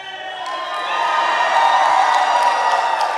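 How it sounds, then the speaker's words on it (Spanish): A church congregation on its feet lets out a sustained shout of joy, a rising wall of many voices whooping and crying out together, loud and continuous to the end. "Vamos a ponernos de pie y vamos a hacer ese grito de alegría"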